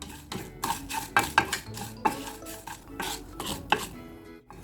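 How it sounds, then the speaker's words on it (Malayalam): Whole cardamom, cinnamon, cloves and Kashmiri chillies dry-roasting in a pan, a spoon stirring and scraping the spices in steady repeated strokes with light clinks against the metal, close and fairly quiet, no voices. "3 കാശ്മീരി മുളകും കൂടി ഇട്ടിട്ട് ഇത് റോസ്റ്റ് ചെയ്തെടുക്കാം"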